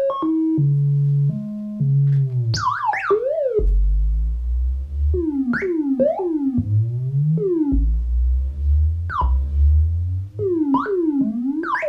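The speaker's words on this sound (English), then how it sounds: "now you can sort of make clusters of little sine wave blips" Clusters of quick sine wave blips from a Hordijk TriLF-VCO synthesizer's sample-and-hold feature chirp and sweep up and down in pitch over low sustained tones, electronic and continuous.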